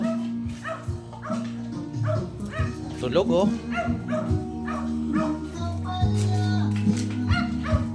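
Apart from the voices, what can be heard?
puppies barking and yipping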